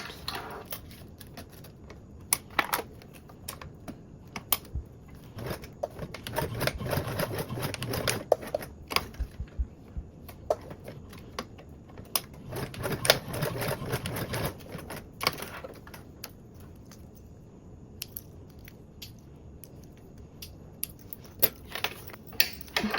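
A sewing machine top stitches a bag strap in quiet, intermittent bursts of rapid clatter, with clicks and handling noise between runs.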